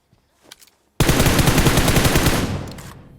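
Sustained burst of automatic gunfire in PUBG Mobile, loud and close, a rapid dense rattle lasting about two seconds before tailing off, after a few faint quieter sounds.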